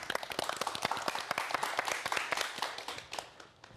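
Audience members at a lecture clap to welcome the next speaker, brisk distinct claps forming moderate applause that stays steady for a few seconds, then fades.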